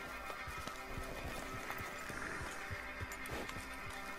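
A horse in Red Dead Redemption 2 gallops with rapid, rhythmic hoofbeats under a noisy game soundscape, fairly faint and steady throughout, with no talking.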